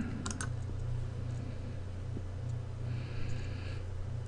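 Quiet typing on a computer keyboard in a dispatch-software setting, soft clustered key taps and a few clicks over a steady low electrical hum, close and faint, with no one speaking.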